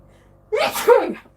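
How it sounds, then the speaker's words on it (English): A single loud sneeze, close by, with a sharp intake and then the explosive burst, short and alone. "I've got to sneeze"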